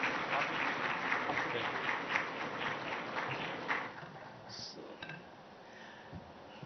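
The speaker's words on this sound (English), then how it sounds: "Please raise a warm applause." A conference audience at a live conclave in Mumbai claps warmly, the applause loud at first and then thinning and fading out over a few seconds.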